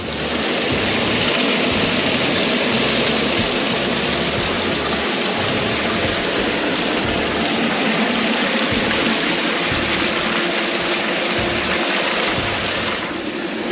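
A Keene Engineering power sluice, converted for desert use, pumps water in a steady, loud rushing flow that continues unbroken throughout.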